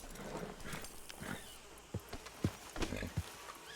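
Horse hooves clip-clopping in the video game Red Dead Redemption 2, a handful of soft uneven thuds at a walking pace in the second half over quiet outdoor ambience, faint and fairly close.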